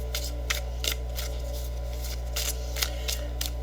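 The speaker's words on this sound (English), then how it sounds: "So let's pull some advice and guidance cards." Tarot-style advice and guidance cards are shuffled and pulled from a deck in repeated short riffling bursts over a steady low hum, close and moderately loud, with no talking.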